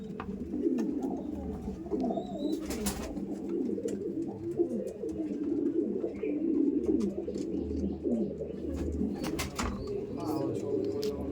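Kaldom pigeons coo steadily in the female room of a loft, a dense overlapping chorus of low rolling coos through the whole stretch, with occasional wing flutters and faint background noise.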